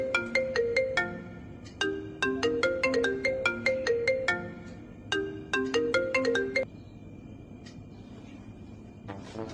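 A mobile phone rings with a bright, plinking melodic ringtone, repeated in several bursts before it cuts off, leaving a quiet room with faint background noise.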